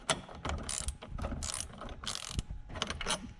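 A ratchet loosens a nut on the battery of a 2018-2024 Nissan Kicks, giving several bursts of quick metallic clicking with short pauses between strokes, close and clear with no talk.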